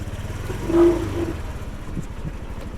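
A motorcycle scooter ridden through the Dalat countryside in Vietnam makes a low, steady engine drone that swells briefly louder near the start.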